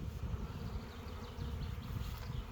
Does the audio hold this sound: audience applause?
no